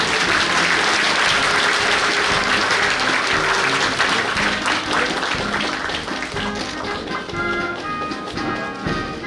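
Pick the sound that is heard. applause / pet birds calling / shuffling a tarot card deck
applause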